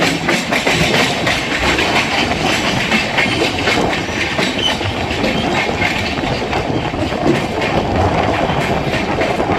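The Saharsa Humsafar Express rumbles along on the way to New Delhi, with a steady dense roar and rhythmic clickety-clack of wheels over rail joints, heard from inside the coach throughout with no talk.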